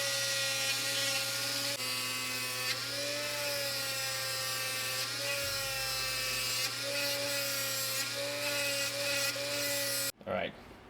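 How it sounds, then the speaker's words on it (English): A handheld Dremel rotary tool grinds and carves a wooden glide bait, whining steadily at high speed with small pitch shifts as the load changes, close and loud, before cutting off abruptly near the end. "Probably end up using the Dremel actually, because that's probably gonna be the smarter idea."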